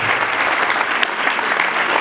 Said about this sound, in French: il faut applaudir les militantes et les militants